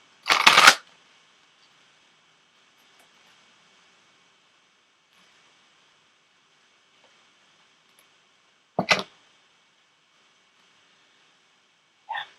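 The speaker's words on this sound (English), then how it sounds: "I am going to go ahead and pull an Ascended Masters card for us as well." Tarot cards being shuffled, heard as a short crisp riffle at the start, then a second brief shuffle burst after a long quiet gap and a faint third flick at the end, close and clear with no talking.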